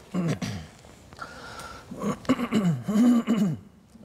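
A person clears their throat and gives a short cough, followed by throaty vocal sounds, close to the microphone.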